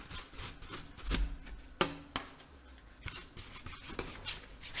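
Someone scrubs a liquid-damaged laptop clean, giving irregular scratchy rubbing and brushing strokes with a few sharper scrapes, close by and fairly quiet.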